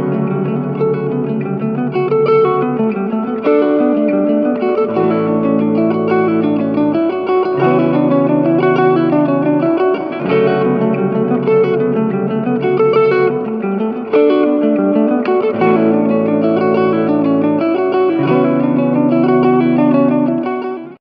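A Joyo Atmosphere reverb pedal on an electric guitar plays sustained chords and melodic lines that ring out with long reverb tails, running loud and steady throughout with no talking.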